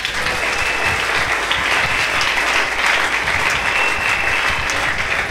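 A church congregation applauding Jesus during a prayer service, loud sustained clapping from many hands, dense and even throughout.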